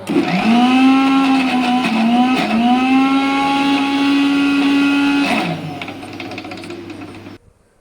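A mixer grinder whirring steadily as it grinds tomato, green chili and sesame chutney, a loud close motor whine with slight pitch dips, then cutting off and winding down.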